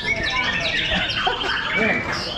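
A young white-rumped shama (murai batu) at a songbird contest sings continuously in bright, varied, whistling phrases, with faint crowd murmur underneath.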